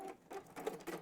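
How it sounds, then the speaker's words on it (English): A sewing machine stitches a folded fabric pouch in a brief, quiet burst of rapid pattering needle strokes, close by and gentle. "I'm going to do a little holding stitch before I then sew gently"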